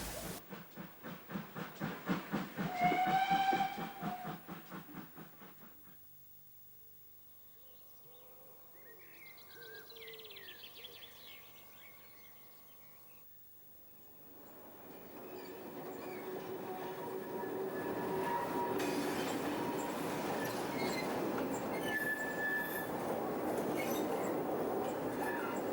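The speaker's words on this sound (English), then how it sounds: "A North British Type 2 diesel arrives at Draycott with one of the last strawberry specials" A North British Type 2 diesel locomotive approaches Draycott station on the Cheddar Valley branch line with a rising engine drone and rail rumble, growing louder and steady as it draws in, after a quieter stretch with faint birdsong.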